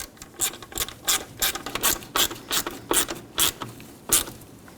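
A hand ratchet clicks in a run of about ten quick bursts, snugging two small 10mm-headed bolts on a fuel-line bracket in the engine bay of a 1997-2006 Jeep Wrangler with the 2.4L engine; close and alone.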